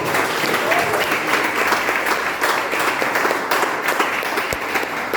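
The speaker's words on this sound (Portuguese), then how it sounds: "então exalta o Senhor com as palmas nessa noite." A church congregation claps hands during an evening worship service, a loud, dense, continuous clapping with slight rhythmic pulsing throughout.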